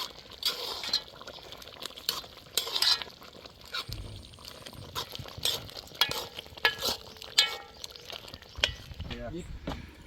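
A spoon stirs lobster in a pot outdoors, giving wet sloshing and clinking scrapes in irregular bursts, close and moderately loud, while people talk over it.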